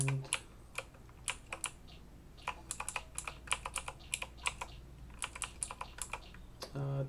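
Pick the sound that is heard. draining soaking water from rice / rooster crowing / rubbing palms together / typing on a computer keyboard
typing on a computer keyboard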